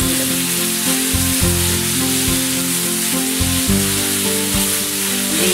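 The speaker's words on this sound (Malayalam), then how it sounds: "നമ്മൾ കുക്കറിൽ നിന്ന് എടുത്ത ബീഫ് അതിലേക്ക് ഇടും" Pressure-cooked beef and ground spiced masala fry hard in a pan for Kerala beef ularthiyathu, a loud, steady sizzle with rhythmic scraping stirs breaking through every second or so.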